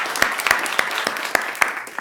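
An audience applauds panelists at a law review symposium on prosecutorial power, with a sparse, uneven run of individual claps from a small group rather than a full ovation.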